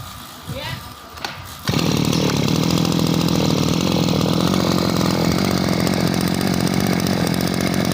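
A used petrol grass trimmer engine starts after a brief quieter moment and then runs steadily and loudly at a constant, even buzzing pitch through to the end, close to the listener.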